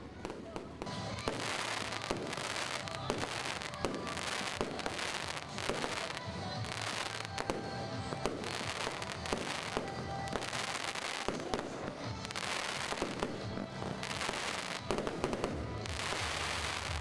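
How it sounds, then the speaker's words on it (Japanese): Fireworks launched at a beer festival in Minamiise, Japan, crackle and boom continuously in dense, rapid bursts, with faint voices mixed into the steady barrage. "花火が打ち上げられ"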